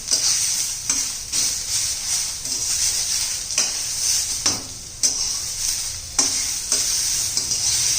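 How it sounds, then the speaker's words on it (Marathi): Tomatoes sautéing in a pan until soft, a loud close sizzle broken by repeated scraping and clinking strokes of a spatula against the pan in an uneven rhythm. "टोमॅटो घालून घेऊ मस्त असं टोमॅटो मऊ होईपर्यंत आपण परतून घेणार आहोत"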